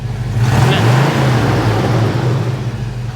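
A square-body short-box four-wheel-drive pickup truck engine idles and revs with a steady low rumble, close by and loud, rising slightly then holding throughout.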